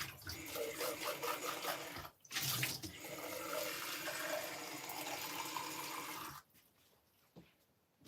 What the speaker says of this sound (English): I'm just going to get some more water because look how dirty this one is